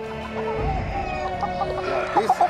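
Featherless broiler chickens, a naturally mutated breed, cluck and squawk at close range in a short busy burst, with calls growing louder toward the end over steady background noise.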